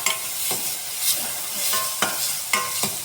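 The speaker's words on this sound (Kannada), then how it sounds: "ಇದಕ್ಕೆ ಮೊಸರು ಹಾಕಿ ಸರಿಯಾಗಿ ಕೈ ಆಡಿಸ್ಬೇಕು." Curd being stirred into fried garlic for garlic raita, soft scraping strokes of a spoon in a pan over a light sizzle, with a few sharper taps against the rim.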